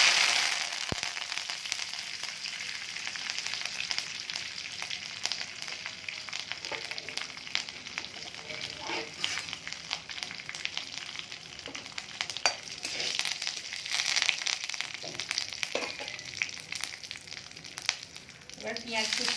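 Curry leaves hit hot oil already holding mustard seeds and three dried red chillies while tempering sambar, giving a steady, close, crackling sizzle that runs unbroken throughout with sharper pops scattered over it.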